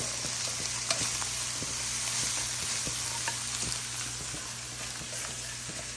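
Meat and vegetables stir-frying together for chow mein, a continuous sizzle with scattered scraping clicks of a utensil against the pan, fairly close and even throughout.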